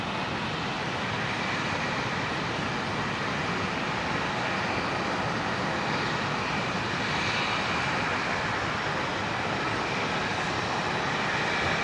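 A jet airliner roars as it takes off from Brisbane Airport bound for Sydney, a loud, steady broadband engine rumble that holds throughout from a moderate distance, with no voices.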